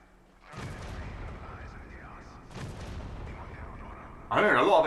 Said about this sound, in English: I'm hearing a lot of explosions,